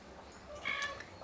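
A cat gives a single short, faint meow, heard briefly over a quiet indoor background.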